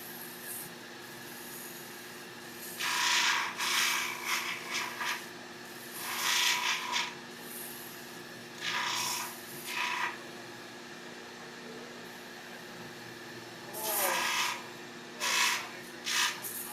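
Rhythmic abrasive rasping of sandpaper on a briar pipe, coming in several bursts of a few seconds each with quieter pauses between, close up and steady.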